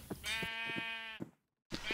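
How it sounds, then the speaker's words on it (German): Sheep in the modded Minecraft world Agrarian Skies give a long, wavering bleat. Short clicks run under it, and after a brief silence another bleat begins. "So verdammt viele Schafe."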